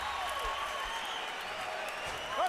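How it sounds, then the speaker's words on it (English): A boxing arena crowd rising in a standing ovation, a broad wash of applause and cheering that holds steady and stays distant under the room's echo. "Much of the crowd rising now, standing ovation."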